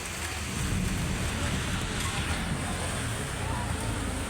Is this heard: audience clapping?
no